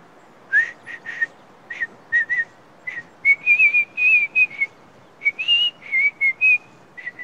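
A person whistles a halting tune in short, separate bursts, a dozen or more clear pitched notes with brief gaps between them, close and alone with no talk.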